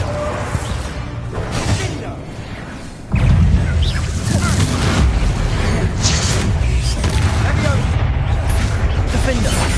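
A Bombarda spell explodes in Hogwarts Legacy during a fight with spiders: a loud booming blast bursts in at once and leaves a dense, roaring rumble of combat noise that fills the rest of the clip.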